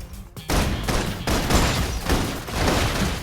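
Sustained gunfire from the Love and Deepspace video game, a dense continuous fusillade of rapid shots with short gaps between bursts, loud and close.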